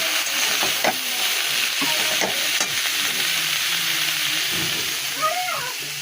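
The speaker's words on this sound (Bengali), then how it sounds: "পটল চিচিঙ্গা আলু সব দিয়ে বড় করে একটা ভাজা করব" Steady frying hiss as pointed gourd, snake gourd and potato fry in a pan, with scattered stirring scrapes and clinks of a utensil against the pan, continuous throughout, with no voices.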